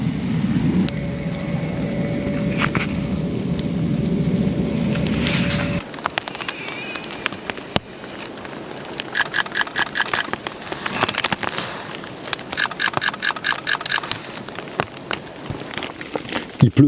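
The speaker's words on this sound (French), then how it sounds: "Il pleut par intermittence depuis ce matin, donc ce ne sont pas des grosses pluies" Light intermittent rain patters on camouflaged shelter tarps outdoors at -2°C, a steady soft close drumming with scattered drips and brief louder taps throughout.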